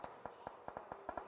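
Close-range automatic gunfire spray in PUBG Mobile during a competitive esports match, heard as about nine sharp evenly spaced shots in quick succession over a steady background.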